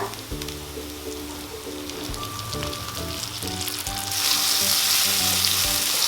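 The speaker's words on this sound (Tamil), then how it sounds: "தக்காளியும் நல்லா வதக்கிக்கோங்க" Tomatoes and onions sautéing in a pan for chow chow kootu give a steady, close sizzle that swells louder near the end, with background music playing underneath.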